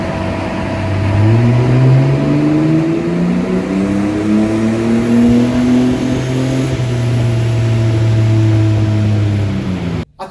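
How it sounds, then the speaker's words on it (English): Mercedes W203 engine revving hard on a dyno during a power run, a loud, steady climb in pitch through the gears held for several seconds before cutting off abruptly at the end. "we could do a power run and get some numbers on how much power we are making"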